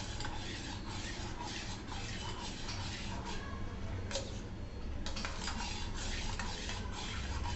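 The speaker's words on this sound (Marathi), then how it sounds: "हे चांगलं मिश्रण चांगलं ढवळून घेऊ" A spoon stirs soaked sabja seeds into gulkand for a watermelon milkshake, giving a steady close scraping and swishing that runs evenly throughout with no talking.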